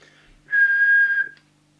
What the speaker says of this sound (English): I think we'll go straight for the whistle test.